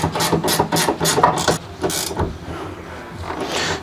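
A nut is tightened with a ratchet on a car's short shifter assembly, producing a close run of rapid clicking ratchet strokes followed by quieter scraping mechanical noise.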